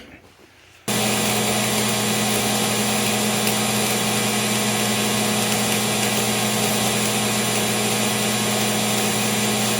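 An old AC buzz box electric welder set to 158 amps strikes an arc after a brief quiet start, then holds a loud, steady, harsh crackling hum with constant intensity for the rest of the clip.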